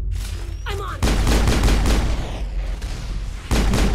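Pistol and rifle fire in the video game Mass Effect 1, a dense, loud burst of rapid shots and booms that breaks off briefly and resumes, with no talk over it.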